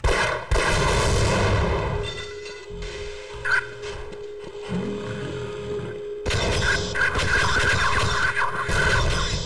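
Half-Life gunfire and combat sounds crackle in sharp bursts over a droning game soundscape, with a lull in the middle before the dense shooting and effects resume strongly.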